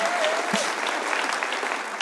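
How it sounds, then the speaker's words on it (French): A congregation at a French-language sermon applauds steadily for a couple of seconds, a dense wash of clapping at moderate volume. "Ah, il fallait applaudir."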